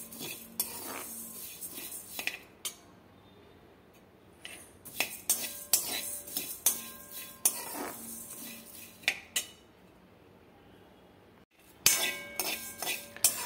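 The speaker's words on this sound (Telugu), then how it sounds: "ఇప్పుడు వచ్చేసి ధనియాలు వేసుకుందాం. వీటిని 1 నిమిషం వేయించుకుందాము." Coriander seeds dry-roast in a pan for a rasam powder, heard as quiet, scattered clinks and scrapes of a metal spatula against the pan with brief pauses between bursts.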